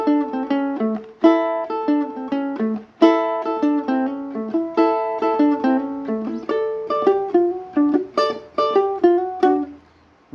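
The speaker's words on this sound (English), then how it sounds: "a really easy, fun rock and roll style riff for ukulele" A simple rock and roll riff played on ukulele, plucked notes in a steady bouncing rhythm with repeating phrases, played alone and fairly loud without any talking.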